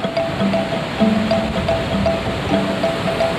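Ocean waves wash onto the Indian Ocean coast of West Lampung as a steady, even rush of surf. Faint tonal sounds repeat softly underneath.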